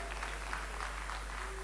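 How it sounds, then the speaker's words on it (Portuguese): Audience applause for a group of teachers at a political speech in Angola, a steady wash of clapping heard from a distance and fairly faint, running through the whole moment without pause. "O nosso aplauso para estes lindos professores."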